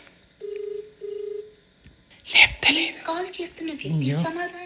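Two short electronic ring tones sound, each about half a second, then people talk close by.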